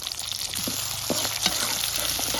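Chopped onion, cardamom, cinnamon and bay leaves fry in hot oil in a wok, giving a close, continuous crackling sizzle with soft stirring scrapes mixed in.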